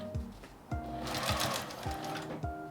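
Sewing machine stitching through a quilted, padded magnetic pot holder, running in a steady rapid stitch with short pauses and restarts, close and clear with no talking.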